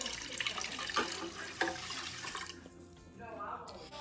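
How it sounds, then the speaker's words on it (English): Two cups of vegetable broth poured into rinsed rice in a saucepan for Gullah Lowcountry crab rice, a close, steady watery splash and gurgle that thins out toward the end. "we're going to add in 2 cups of vegetable broth"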